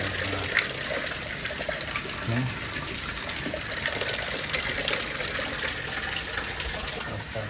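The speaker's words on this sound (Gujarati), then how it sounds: "કન્ટિન્યુઅસ વરસાદ આવે જ છે ભાવનગરમાં" Heavy continuous rain falls in Bhavnagar, heard as a steady, rushing wash of water, close and fairly loud, with running, gushing water mixed in and no voices.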